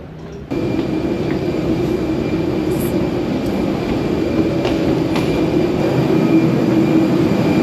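An airport shuttle train in Jordan rumbling along the track, a loud sustained roar starting abruptly and holding steady with faint metallic squeals and clanks, heard close from inside with no talking.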